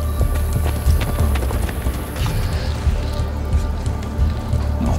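Horse hooves clip-clop steadily in Assassin's Creed Brotherhood, a continuous running gait under a dense, busy game soundscape with rain-like texture throughout.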